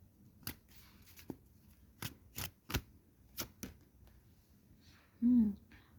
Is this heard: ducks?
no